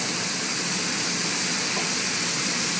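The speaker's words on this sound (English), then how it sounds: "I'm going to put in a little water to cook these vegetables, to steam them a little bit" Water hits a hot pan of vegetables being cooked for chicken lo mein, producing a loud, steady steaming hiss and sizzle that fills the whole stretch without a break.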